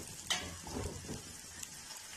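Onions sautéing in a pan for a vegetable pasta, a steady soft sizzle with a couple of brief stirring clinks, close and low in level, with no talking.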